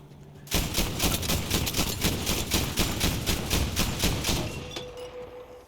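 Rapid sustained automatic gunfire in the Battlefield 5 campaign, aimed at a moving truck, a dense rattling burst of shots lasting several seconds at close range before tapering off.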